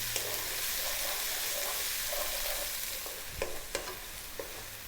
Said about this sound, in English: we're ready to drop in 1 cup of chopped onion. High heat, as you can hear and see